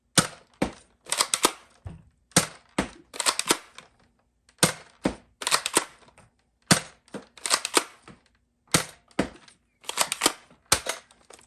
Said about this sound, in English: I want to fire a few shots from some spring blasters